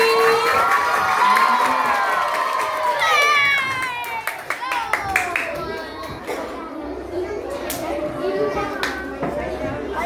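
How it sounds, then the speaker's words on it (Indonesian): Children and adults cheer, shout and clap loudly at a Halal Bi Halal gathering at a state elementary school, a lively crowd roar that eases slightly midway, with excited children's voices throughout. "tepuk tangan yang meriah sekali lagi"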